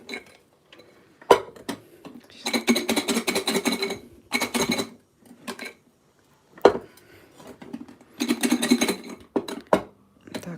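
Dishes clatter in bursts as bread cubes are shaken in a bowl under a covering plate, with sharp clinks between the rattling spells and short pauses of quiet.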